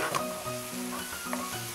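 LA galbi beef ribs, already grilled, sizzle in a pan with browned vegetables, a steady close frying hiss with some soft stirring, and no voices.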